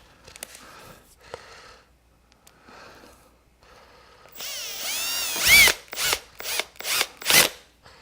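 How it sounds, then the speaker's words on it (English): A power drill drives screws back in while an extension cord reel is mounted, giving a few faint whirs early on and then several loud, close, short bursts of whining motor near the end. "Put the screws back in."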